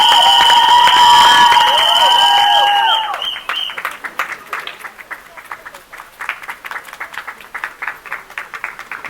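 Loud audience applause and cheering greet Rakul Preet as she is introduced on stage at a film promotion event, starting as a dense roar with whistles and shouts, then thinning to scattered clapping and crowd noise.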